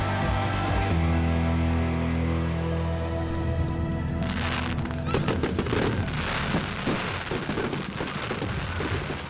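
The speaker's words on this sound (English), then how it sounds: "fireworks are lighting up the sky" Steady tones give way to a rapid volley of sharp Bonfire Night fireworks bangs and crackles in Leeds, loud and dense, popping irregularly over several seconds.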